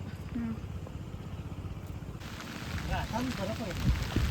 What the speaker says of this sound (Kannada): ಮಳೆ ಬರ್ತಾ ಇದೆ ಫ್ರೆಂಡ್ಸ್,